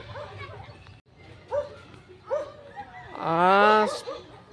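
Dogs yip and whine playfully in short bursts, ending in a louder drawn-out howl-like yelp, with some background noise between.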